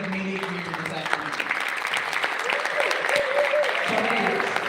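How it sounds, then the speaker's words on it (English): An audience at the Ix Global Awaken 22 event in Barcelona applauds in a sustained, dense wash of clapping that swells slightly toward the end, with faint voices mixed underneath. "Y yo le quiero pedir un aplauso I want to ask for a hand of applause"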